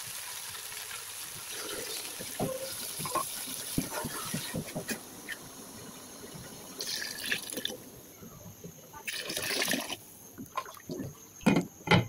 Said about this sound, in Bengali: এখানে আমি ফুটন্ত গরম পানি অ্যাড করে দেব।